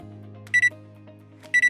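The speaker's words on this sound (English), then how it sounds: "set a timer for 2 minutes" A kitchen timer goes off twice while wonton soup cooks, each time giving a short burst of rapid, high-pitched electronic beeps over a low steady hum, the two bursts about a second apart.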